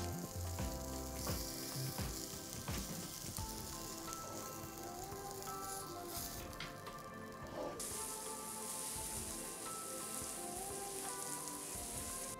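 Semolina-crusted mackerel (Konkan-style bangda rava fry) sizzles steadily in a hot pan, a continuous close, crackling fry with faint clinks throughout and no talking.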